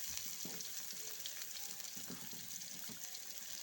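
Fish frying in a pan on a home kitchen stove, cooked alongside dal, gives a steady, fairly quiet sizzle with faint clinks and stirring sounds throughout.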